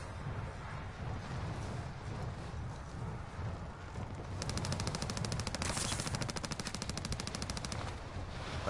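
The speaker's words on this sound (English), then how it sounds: "Someone's shooting at me." Rapid bursts of automatic gunfire in a PS4 shooter game, the rattling shots getting louder and steadier in the second half, with a faint voice speaking underneath.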